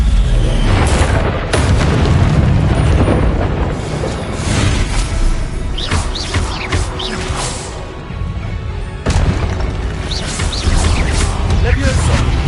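Confringo spell explosions in Hogwarts Legacy boom repeatedly, with heavy blasts and crackling bursts mixed in with other spell effects while a player shouts spell names.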